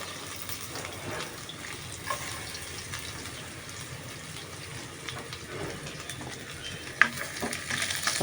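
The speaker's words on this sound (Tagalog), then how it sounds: "Papabrown na natin ang ating bawang." Garlic frying and browning in a pan for Filipino chicken tinola, giving a steady soft sizzle with occasional stirring scrapes and a brief clink near the end, no voices.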